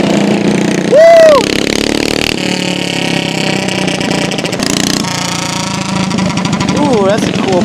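Passing motorcycle with an aftermarket exhaust pipe, its engine note rising and swooping amid a noisy street scene of cheering voices and scooter riders, with other engine drones and crowd chatter throughout.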